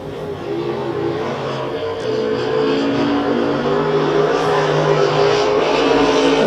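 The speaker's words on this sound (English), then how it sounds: "I heard rumors that was a 750 cubic inch motor inside Gary's car. It sounds like it" Dirt track race cars roar at Electric City Speedway, one said to run a 750 cubic inch motor, a loud, sustained engine drone that swells steadily as cars race around the track.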